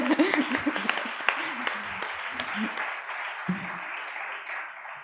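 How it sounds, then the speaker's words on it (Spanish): An audience at a cultural lecture with an author breaks into sustained applause, steady clapping of moderate loudness under which a voice speaks. "Vamos a darles un aplauso a ellos, que son los mejores."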